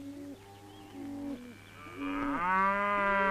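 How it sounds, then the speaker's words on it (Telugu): Cows and buffaloes moo in a herd, several drawn-out bellows overlapping at moderate distance, with the loudest, longest call swelling near the end. "ఇక మీ గేదెల్ని ఆవుల్ని తోలుకుపోండి."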